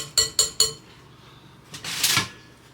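Wooden spoon pulled from a kitchen drawer while making brownies: three quick, sharp clinks and rattles of utensils in a row, then a short scraping slide of the drawer, close and clear with no talking.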